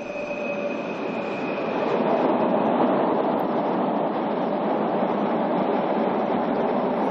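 A train on the Corsican mountain railway from Calvi to Ajaccio rolls past with a loud, sustained rumble and a thin wheel squeal early on, heard close and steady without voices.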